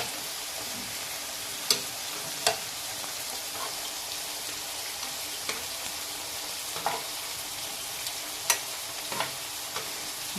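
Pieces of chicken malai boti sizzle steadily in a pan as they are turned, with light scrapes and small clicks of a utensil scattered over the constant frying hiss.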